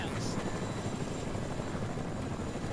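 A helicopter in the Fortnite video game gives off a loud, constant rotor roar that fills the whole stretch steadily, with no voices heard over it.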